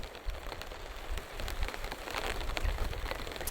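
Heavy rain at a storm camp beside a Troopy, a dense, steady hiss of drops pattering on surfaces with occasional low thumps, moderately quiet and without talk.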